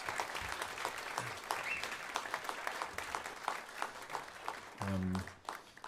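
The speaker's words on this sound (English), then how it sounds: "Let's give LIVELab a round of applause" Audience applause for the LIVELab team at a Coszmos Quartette record release show, steady clapping from a crowd with a brief low tonal sound near the end as the clapping thins out.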